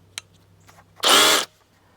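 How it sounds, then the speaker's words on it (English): A power drill bores into stone in one short, loud, close burst of about half a second, with quiet before and after. "Let me drill some holes and see what happens here."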